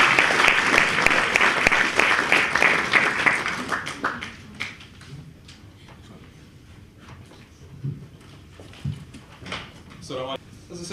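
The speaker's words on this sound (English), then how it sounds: "Please have a round of applause for Abdul Karim." Audience applause for a poet at a spoken-word event tied to a Muslim inmates program, loud and dense at first, then thinning into scattered claps and fading over the following seconds.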